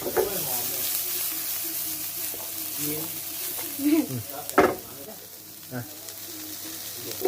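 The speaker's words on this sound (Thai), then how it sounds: "ผัดอีกหน่อยนึง" Spinach, with cheese on the way, is stir-fried in an oiled pan, giving a steady sizzle cut by scraping spatula strokes and a few louder knocks against the pan. A voice talks briefly beneath the cooking.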